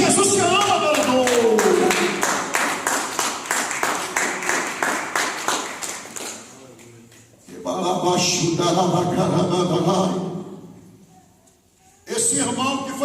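A church congregation claps in a fast rhythmic beat for several seconds, then the sound drops away to a broad, murmuring noise with voices, before a final burst.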